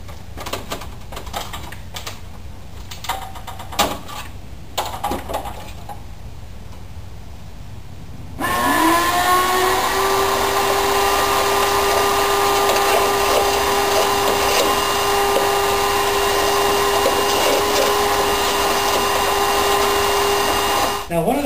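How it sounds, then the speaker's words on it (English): A shop vac vacuum cleaner starts up partway through and runs steadily with a loud, constant whine while its hose end cleans out rain gutters; the first stretch is quieter with scattered taps and knocks before the motor kicks on. "use the end of this vacuum cleaner to stick down into the gutters as I go along and get them super clean."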